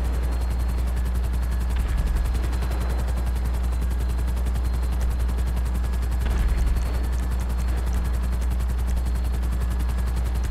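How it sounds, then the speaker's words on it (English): Steady, loud rotor thrum of several helicopters in a video game during a Cayo Perico heist setup fills the whole stretch, with faint bursts of gunfire rising briefly twice. "Try to get a little bit higher than these other helicopters."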